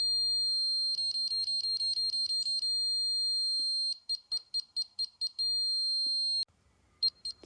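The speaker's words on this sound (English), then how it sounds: "now it's beeping slowly when it needs to go higher" A sensor beeps in pulse mode, sharp high electronic tones that come in rapid regular trains, break off into slower separated beeps, then return as one sustained tone before falling silent.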